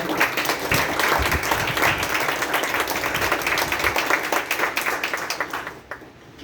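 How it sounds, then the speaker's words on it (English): Sustained audience applause at a workplace commencement-style speech, dense steady clapping from a crowd that tapers off toward the end, with no talk over it. "give yourselves a big round of applause for all that you've accomplished so far"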